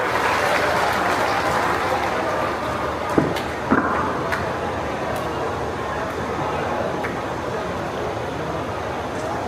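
An audience applauding to welcome a minister at a Purnima festival gathering at Jatela Dham, steady sustained clapping that runs throughout at moderate loudness, with a few sharp knocks partway through.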